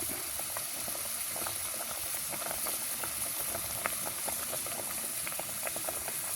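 Fish cooks in boiling oil, giving off quiet, continuous bubbling and scattered soft pops at a steady, low level.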